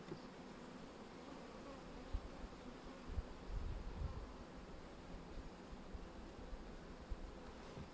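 Several bees hum softly around a child's hand, a steady low insect drone with a few brief louder swells and faint wind in the background.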